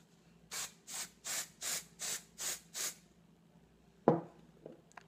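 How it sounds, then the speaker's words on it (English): Seven short, evenly spaced bursts from a dry shampoo spray can hiss close up onto teased hair, followed by a faint clunk and rustle afterward. "I actually take my dry shampoo and I spray it"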